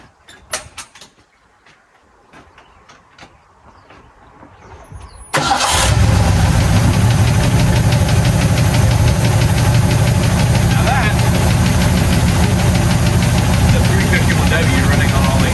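A neglected Ford F250 pickup's V8 is started after a quiet stretch of faint shuffling and knocks. It fires suddenly and settles into a loud, steady, rumbling idle on all eight cylinders, close to the listener, and it continues with no talk over it.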